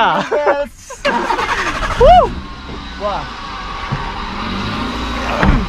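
A car engine cranks and starts, then idles with a steady rumble beneath loud, close talking from several people during an outing for a Christmas celebration.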